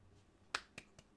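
Three sharp, isolated hand claps ring out quietly in a still room, each crisp and short, evenly spaced over about half a second, with no voices.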